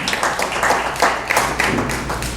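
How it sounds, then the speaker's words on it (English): A crowd applauds steadily, dense overlapping claps with a few louder hits standing out, no voices on top. "So let's give all of them a big round of applause."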